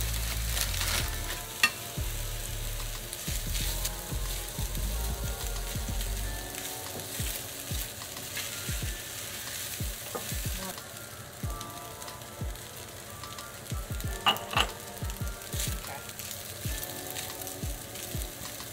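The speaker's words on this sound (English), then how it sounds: "Then I'm gonna add my frozen peas back in and my eggs, and I'm just gonna saute that back up and incorporate it" Fried rice with frozen peas and eggs sautéed in a hot pan: a steady, close sizzle with repeated scraping stir strokes and occasional utensil clinks, louder at first and then settling into an even crackle.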